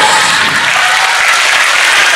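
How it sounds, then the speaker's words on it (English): A live physics show audience breaks into dense, loud applause that holds steady without a pause, filling the hall with no voices on top. "Big round of applause for this trick"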